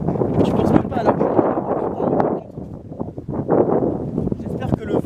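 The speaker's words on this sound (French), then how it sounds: "J'espère que vous entendrez parce que le vent, il est chiant." Wind buffets an outdoor microphone with low rumbling gusts that run continuously beneath someone talking.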